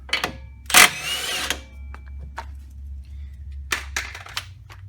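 Power tool removing an 18 mm sway bar link bolt on a 2011 Acadia 3.6 front strut job, sharp bursts of whirring and rattling in short separate spurts, close and loud.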